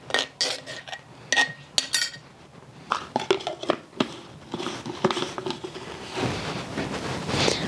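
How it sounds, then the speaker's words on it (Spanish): A utensil scrapes and clinks against a bowl and a small plastic container while salsa is spooned in, with irregular taps and clatter, a crinkle of plastic, and some soft rustling toward the end. "Me voy a poner la salsa, toda esta salsita en este topercito."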